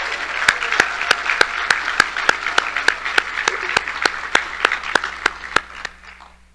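Applause for the Miss and Junior Miss Cherokee royalty at a live competition: a steady crowd roar with regular sharp claps on top, sustained for several seconds, then fading out at the end.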